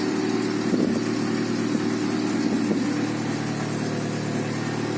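A Daewoo Lanos 1.5 engine, started after half a year standing unused, runs at a steady close idle with a low continuous drone and a few slight rises in pitch; no voices.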